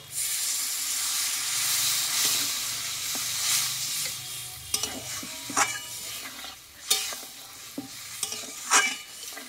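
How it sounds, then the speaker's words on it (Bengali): Water goes into a sizzling pumpkin stem curry: a loud hissing rush of steam and frying that settles into sharper spattering pops and a few stirring clinks near the end. "এইবার আমি জলটা দিয়ে দেব।"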